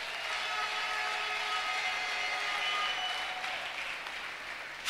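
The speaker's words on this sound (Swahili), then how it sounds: "Tujipigie makofi mengi kwa ajili ya uimbaji huo" Audience applause follows a choir performance at a church singing competition: a sustained, even roar of many hands clapping that holds steady throughout.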